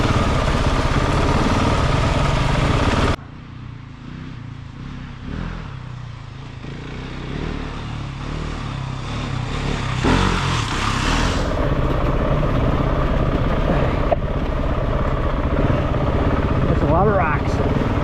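A 2023 Gas Gas 700ES dirt bike ridden along a rocky trail, its engine droning steadily and loudly throughout with rising and falling revs, and a sharp drop in intensity early on.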